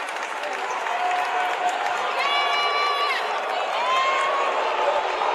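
A high school boys state basketball semifinal crowd, DeLaSalle versus Richfield, roars and cheers in a packed gym, with loud sustained noise, whoops and applause, and a commentator talking over it.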